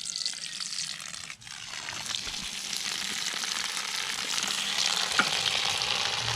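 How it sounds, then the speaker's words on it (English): Rain barrel water fills a bucket for compost tea in a steady, loud rushing hiss that runs the whole time and grows a little fuller as the level rises. "fill it with water from the rain barrel"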